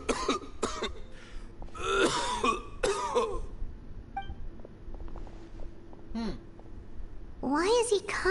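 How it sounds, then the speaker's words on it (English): A male character in the video game Genshin Impact coughs several times in short bursts between stretches of in-game dialogue, with game chimes and a quiet background score underneath. "Why is he coughing so much?"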